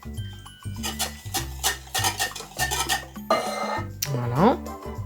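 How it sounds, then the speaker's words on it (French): Spoon stirring melted butter into pear and walnut cake batter in a bowl, a run of repeated scraping, clinking strokes at a steady rhythm, close and fairly loud. "Et on vient mélanger le tout."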